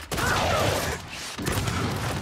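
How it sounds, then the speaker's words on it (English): Steady rattling gunfire from Gears 5 multiplayer, near and loud, running almost continuously with a short break before it starts up again. "I'm getting shot by my own teammate"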